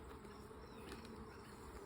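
Italian honeybees buzz steadily throughout an open hive during inspection, a continuous, close, even hum of many wings with no voices.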